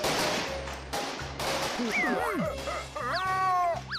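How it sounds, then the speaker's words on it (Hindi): Cartoon fireworks from the animated Motu Patlu film pop and whistle in a rapid series, with rising and falling whistling tones over a pulsing background, fairly loud and close. "कोई हमला नहीं हुआ है, यहाँ सामने आतिशबाजी हो रही है"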